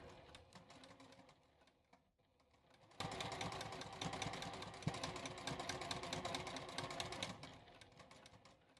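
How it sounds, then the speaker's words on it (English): A sewing machine runs a back stitch along a fabric edge, humming briefly and pausing before a steady, louder rapid whirr of stitching takes over, close and with no talking. "I will do a back stitch. So I'll go forward a few stitches, back a few stitches, and then just sew along that edge there"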